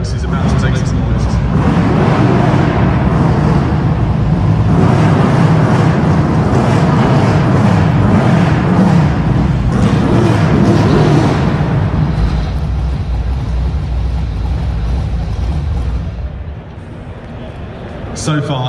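A BriSCA F1 stock car engine revs loudly inside an arena, a sustained raw roar with repeated throttle blips that fades toward the end, while an announcer talks over it.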